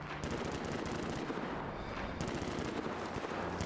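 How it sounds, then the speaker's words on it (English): Rapid sustained gunfire aimed at a Deathclaw in a Fallout video game, dense automatic bursts overlapping continuously, loud and close with no talking. "they're putting bullets into the Deathclaw right now"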